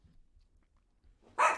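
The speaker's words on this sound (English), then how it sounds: "Okay, why are we barking now already?" One dog gives a single sharp bark right at the end, loud and close after a near-silent pause.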